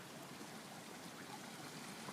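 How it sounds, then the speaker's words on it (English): Muddy rainwater from a sun-shower flows steadily down into a flooded neighborhood drain, a continuous rushing, trickling wash at close range with no voices. "You can probably see all that water from there going down into here."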